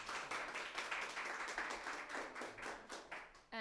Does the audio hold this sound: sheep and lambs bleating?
no